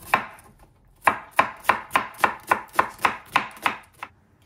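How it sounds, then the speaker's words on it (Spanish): A knife chops a fiery habanero chile into thin strips on a cutting board, with about ten crisp, evenly spaced cuts close up and no talking. "me lo sostengo con un tenedor y así lo vamos a ir cortando en tiritas"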